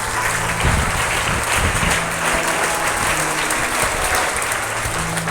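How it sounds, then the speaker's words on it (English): Students and teachers at a school assembly applaud the competition winners, a sustained, even roar of many hands clapping for several seconds, loud and close, with no one speaking. "A big round of applause."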